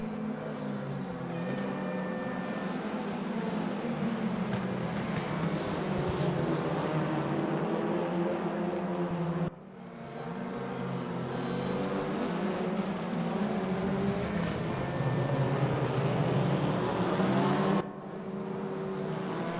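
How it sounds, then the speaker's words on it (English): Several racing car engines roar continuously in a dense pack in the sim racing game RaceRoom (R3E), a WTCR league race at Brands Hatch Indy, high revs rising and falling across the whole stretch with no voices. "All these cars are much louder than race 1"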